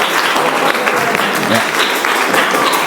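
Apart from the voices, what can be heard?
applause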